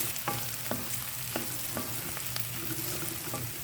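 Ginger garlic paste frying for a veg biryani, a soft steady sizzle with a few light scraping taps from stirring, quiet and close, with no talking.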